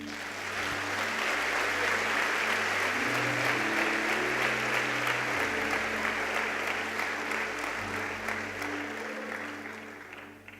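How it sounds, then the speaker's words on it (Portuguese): A church congregation applauding during a service, dense sustained clapping from many hands filling the room for about ten seconds, steady and fairly loud, with a low hum of instruments underneath. "Dê um aplauso ao Senhor."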